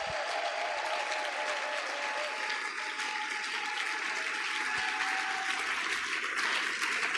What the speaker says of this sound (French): Est-ce que tu peux acclamer très fort le roi de gloire?